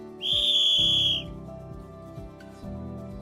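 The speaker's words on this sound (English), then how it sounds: "Mama put her fingers to her mouth and whistled really" A loud, shrill whistle blasts for about a second, then cuts off, leaving low background sounds.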